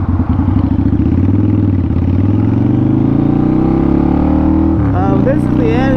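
A 2005 Harley-Davidson V-Rod motorcycle rides along with a steady, loud engine drone that rises gradually in pitch, and a voice speaks briefly near the end.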